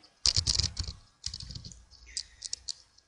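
Typing on a computer keyboard while building a Dreamweaver CS6 pop-up menu: a quick run of close, crisp key clicks, a short pause, then a second lighter burst of keystrokes, with no talking.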